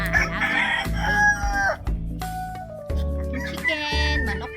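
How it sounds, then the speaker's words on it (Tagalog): A rooster crows repeatedly on a small farm where goats are kept, the calls loud and close with rising and falling harmonic notes, interspersed with other fowl clucking and faint background voices. "Aking chicken, manok ni San Pedro."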